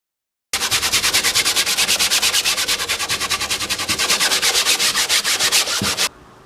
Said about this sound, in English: I wondered if you could use a little dish soap to make it easier to scrub the paint off with